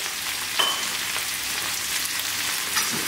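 Vegetable oil sizzles on a hot tawa griddle for a mixed vegetable tawa sabzi, a steady close hiss with a couple of brief sharper crackles.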